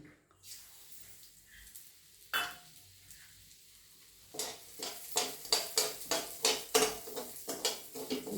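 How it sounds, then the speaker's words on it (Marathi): Broken wheat roasts in ghee as a spoon scrapes and knocks against the pan, a quiet start building into a regular series of distinct stirring strokes over a faint sizzle. "आता त्याच तुपामध्ये आपण हे दलिया भाजून घेऊया"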